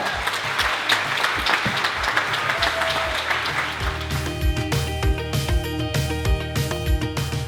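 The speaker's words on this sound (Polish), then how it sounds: "Przed Państwem Adam Bielecki, gorące brawa!" Audience applause at a mountain film festival in Wadowice, Poland, as a speaker is introduced: steady, dense clapping from a large crowd in a hall, with some louder individual claps near the front and scattered pitched tones.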